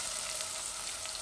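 Chicken mince frying in a pan as onions go in, giving a steady, close, even sizzle for a moment with no talk.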